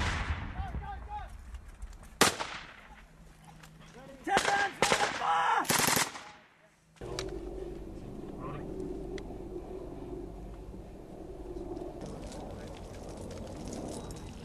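Machine gun fire in a combat contact in Afghanistan involving Australian troops: several loud, close bursts of rapid automatic fire in the first half, giving way to a lower, steady background rumble.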